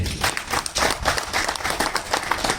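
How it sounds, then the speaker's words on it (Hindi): A crowd at a Rajasthani film trailer launch event claps and applauds, a short burst of loud, uneven clapping lasting a couple of seconds. "पहले तो जोरदार तालियां बजाइए।"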